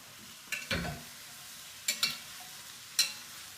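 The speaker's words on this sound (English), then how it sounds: "I've just got a couple of tablespoons of olive oil, and I'm going to put all the vegetables in, the leeks, the carrots, the celery, the onions" Leeks, carrots, celery and onions cooking in olive oil in a pot, a soft background sizzle broken by three short bursts of stirring and scraping, with no talking.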